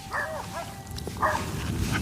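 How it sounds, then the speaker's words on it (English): A dog whimpers with high yips, then lets out short barks, close and fairly loud over a low background rumble. "Everybody else's dog in the neighborhood's quiet right now, and you're noisy."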